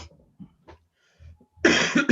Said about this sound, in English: I just got done with a cough attack.